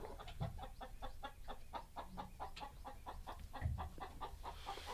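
A hen outside a chicken coop clucks rapidly and frantically in a steady, insistent rhythm, fairly faint against a low background hum.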